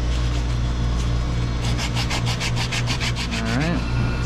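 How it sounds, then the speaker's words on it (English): Abrasive sanding on copper refrigeration line at a water-cooled condensing unit, a fast run of rhythmic back-and-forth scrapes set against a loud steady machine hum, close and prominent, with no one talking. "It's good practice to sand before you cut."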